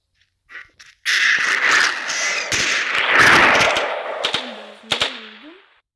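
Automatic gunfire rattles in a zombie mode of the video game Special Forces Group 2, with a loud continuous burst of rapid shots after a couple of short pops. Sharp single cracks follow and then fade out.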